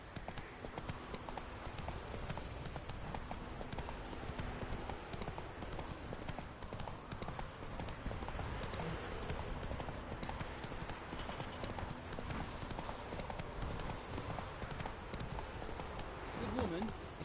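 Roach, a horse in The Witcher 3 video game, gallops in a rapid, steady clip-clop of hooves that runs through the whole stretch, with game voices and ambient sounds mixed underneath.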